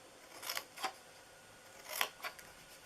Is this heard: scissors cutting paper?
yes